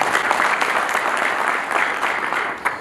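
A church congregation claps together in sustained, dense applause, loud and steady before easing slightly toward the end.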